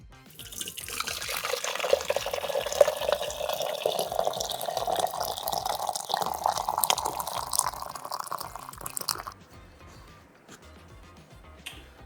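Home-brewed beer pours from a tap into a cup, a steady gurgling, rising fill sound lasting several seconds before stopping, followed by faint drips.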